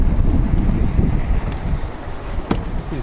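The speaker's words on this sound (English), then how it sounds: "It's super windy out today." Strong wind buffets the microphone outdoors beside parked Cadillac ATS-V and CTS-V cars, a loud steady low rumble with gusts and no speech.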